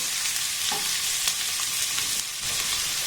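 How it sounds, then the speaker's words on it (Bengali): Onions sizzle steadily in a hot pan, with a few scraping stirs of a spatula audible across the close, continuous frying hiss. "এবার পেঁয়াজটাকে একটু নাড়াচাড়া করে ভেজে নেব।"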